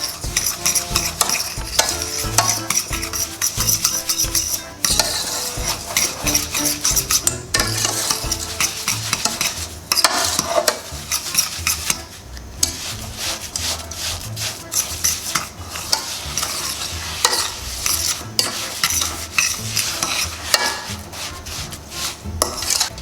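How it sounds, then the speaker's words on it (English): A fork beats an egg, sugar and vanilla mixture in a bowl, a rapid, steady clatter of whisking taps that continues for a long stretch with brief pauses, close and fairly loud. "take the fork and we stir it"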